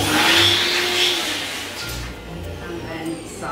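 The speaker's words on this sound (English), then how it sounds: "For the remaining balloons, I'm going to use my inflator" An electric balloon inflator runs while balloons are filled for a helium-free link balloon arch, its motor whining loudly at first, then fading and quieting after about two seconds.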